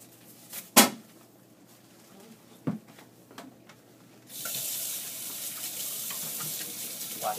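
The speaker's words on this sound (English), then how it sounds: "wash my hands" Tap water runs steadily at a sink as hands are washed after removing gloves in a dental radiography setting, a broad hiss starting partway through after a few clicks and knocks.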